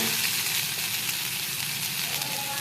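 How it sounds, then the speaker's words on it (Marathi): Leftover rice tossed and stirred in a hot pan of tempering oil, a dense continuous close sizzle with faint soft movement beneath it and no talking. "भाताला छान हलवून घ्यायचं"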